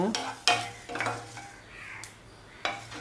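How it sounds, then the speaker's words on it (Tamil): Cumin seeds dry roasting in a pan give faint crackles and stirring scrapes, with a few sharper clinks of the utensil against the pan at intervals; nothing else is heard. "இப்போ இந்த சீரகம் பொரிய ஆரம்பிக்குது"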